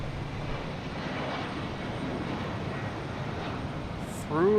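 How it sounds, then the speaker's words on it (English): A JetBlue jet departing Boston Logan for Buffalo rumbles steadily in the distance as a low, even engine roar, with a brief voice breaking in at the very end. "We get this JetBlue heading to Buffalo"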